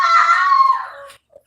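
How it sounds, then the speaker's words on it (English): A child screams loudly indoors in a house, one long high-pitched shriek lasting about a second that fades out, close and echoing. "you should go play outside instead of screaming in my ear in the house"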